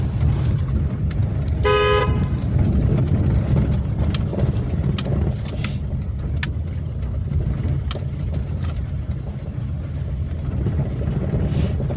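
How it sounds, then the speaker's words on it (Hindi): A single short car horn toot sounds early on at a blind turn in a narrow lane, over the constant low rumble of a running engine inside the car. "हॉर्न दीजिए लॉन्ग"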